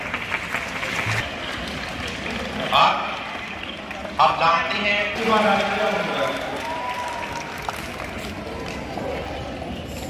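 Children at a school Independence Day celebration applaud to welcome the chief guest, a steady wash of clapping running under a person talking throughout.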